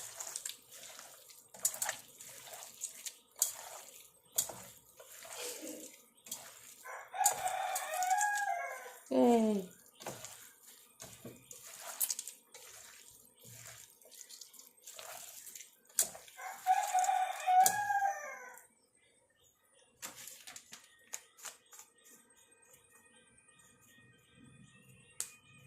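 A rooster crows twice, rising and falling, at moderate distance, with water splashing and people talking around it.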